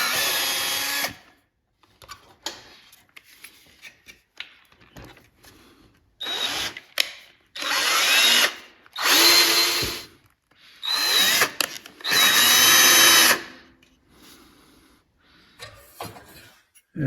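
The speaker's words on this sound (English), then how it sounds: "So I'm going to drill and tap it for a number 8 screw." A power drill with a 1/8 inch bit whirs in several bursts of a second or two, drilling a hole for a number 8 screw, separated by quiet pauses and small clicks and handling noises.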